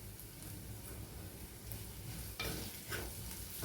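Curry leaves sauté in a pan with turmeric powder, giving a steady soft sizzle with occasional stirring scrapes and a few brighter crackles, close and fairly quiet with no talking.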